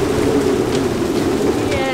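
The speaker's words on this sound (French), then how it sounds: "Donc en tout cas ça fouette la pluie dehors." Heavy rain driven by strong wind lashes the outside of a sailboat, a dense, steady roar and hiss heard from inside the cabin, with a voice faintly present beneath it.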